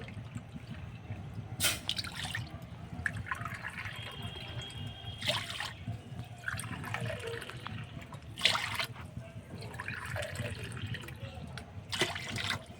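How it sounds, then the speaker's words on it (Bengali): Water measured by the cup is poured into a pot for sweet syrup, giving several separate splashing, trickling pours with quieter pauses between them, fairly soft and close. "মিষ্টি রসটা বানানোর জন্য আমি এই কাপ মেপেই জল দিচ্ছি"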